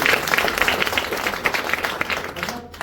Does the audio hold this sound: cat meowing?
no